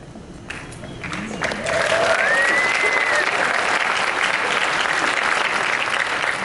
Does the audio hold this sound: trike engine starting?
no